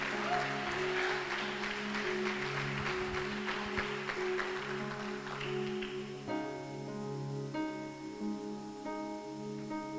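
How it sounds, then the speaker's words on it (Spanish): Soft applause from a church congregation during a service, a light, distant patter over sustained keyboard chords, dwindling as the music continues alone. "Si ese aplauso es para el Señor, suave,"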